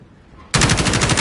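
Kilo assault rifle in Call of Duty opening fire on full auto after a short quiet lead-in, a loud, dense, rapid stream of shots that continues through to the end.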